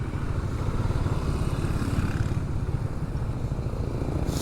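A Harley-Davidson motorcycle rides with a steady, throbbing engine rumble, loud and near, with a rush of wind noise over it and no voices.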